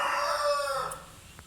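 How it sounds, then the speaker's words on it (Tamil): A rooster crows once, a drawn-out call that starts loud and tapers away over about a second, heard from some distance with no talking. "கோழி இப்போ தான் கூவுது."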